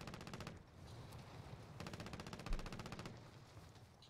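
Call of Duty Warzone gunfire crackles in rapid automatic bursts, two long strings of rattling shots separated by a short pause, fairly close and loud.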